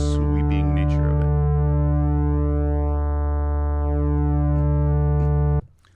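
A Novation Bass Station 2 holds a steady, clean synth bass note whose pulse width sweeps slowly, so the upper harmonics glide up and down in a smooth, phasing motion. It sounds alone and close, then cuts off just before the end.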